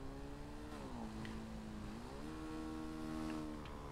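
In a video game, a scooter engine revs with a steady droning pitch that dips and then climbs again, heard alone at a modest level.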